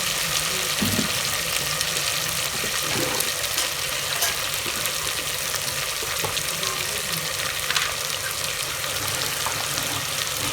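Chicken shahi korma ingredients are mixed in a pan, a continuous hissing sizzle with soft scraping stirs running throughout, close and even, with no voices.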